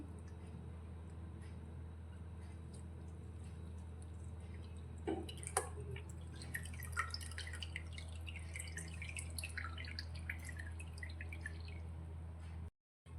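Water drips and trickles from squeezed grated raw potato, a quiet, irregular patter of small drops that thickens in the middle of the stretch over a steady low background hum, with no talking.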